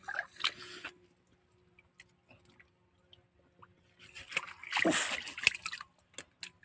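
A caught murrel fish, kept in water to stay alive, splashes briefly near the start and again in a louder, longer burst later. Soft ticks and quiet patter fill the gaps between the splashes.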